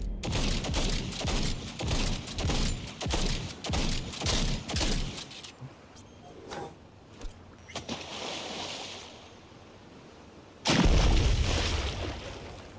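Gunfire shot into water in the video game Cyberpunk 2077: a run of rhythmic, regularly spaced bursts of shots, then scattered softer pops and a lull, ending with a loud, sudden burst.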